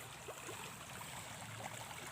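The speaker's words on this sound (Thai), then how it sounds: "ดูสิน้ำไหลแรง มาก ๆครับ" Strongly flowing water streams across a rice paddy just after transplanting, a steady rushing wash at low to moderate level with no voices.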